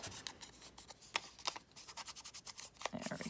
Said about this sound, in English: Do a little snip.